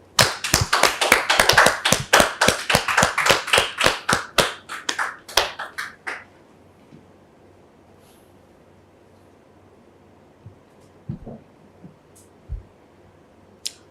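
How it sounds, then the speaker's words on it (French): Audience applause on a French-language talk show welcomes a guest, a burst of rhythmic clapping lasting about six seconds before it breaks off into near silence with a few faint knocks. "Est-ce qu'on peut la recevoir sous vos applaudissements"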